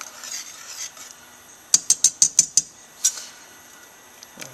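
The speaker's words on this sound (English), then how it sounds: "We're whisking it all in now." Whisk clanking against a pot as roux gravy is worked into shrimp étouffée: a quick run of about six sharp metallic taps, then one more, close and clear over a quiet kitchen.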